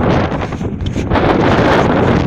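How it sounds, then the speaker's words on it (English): Strong wind blows outdoors, roaring steadily and loudly across the microphone with gusty buffeting throughout, no voices. "Windy."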